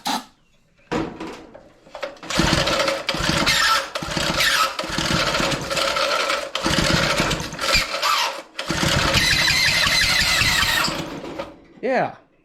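Gas-powered John Deere air compressor engine firing up and running roughly, with loud uneven chugging, sputters and squealing bursts. A brief pause around the middle before it catches again, then it stops near the end.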